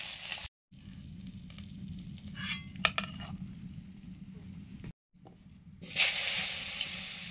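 Taro (shola kochu) and potato pieces fry in mustard oil in a pan, giving a steady close sizzle and crackle with a few brief utensil clinks. The frying swells louder near the end.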